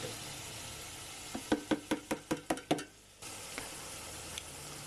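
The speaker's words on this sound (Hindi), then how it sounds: "अब हमने जो गोश्त कुक करके रखा था वो इसमें शामिल कर देंगे" Cooked mutton goes into a pan of frying moringa flowers: a quiet sizzle, then a rapid run of about eight sharp clacks of a spoon against the pan, a brief lull and the sizzle returning.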